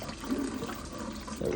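Hot water running from the tap in a 2010 Heartland North Trail 31BDSS travel trailer, a soft steady stream splashing into a sink close by, faint and alone.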